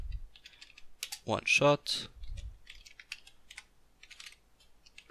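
Computer keyboard typing while code is entered in Unity 5 for a horror-game gun script, brief light key clicks scattered under a man's speech in the middle.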